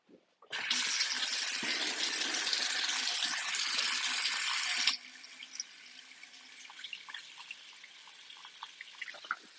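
Water gushes steadily from a tap for several seconds, then drops to a quieter trickle and faint drips and rattles in a sink, as someone waits for the water to heat up on an upper-floor apartment.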